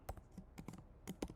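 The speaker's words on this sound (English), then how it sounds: "So let's say if I just type path here," Quick, uneven keystrokes on a computer keyboard, about a dozen close, crisp clicks in short bursts, with no one speaking.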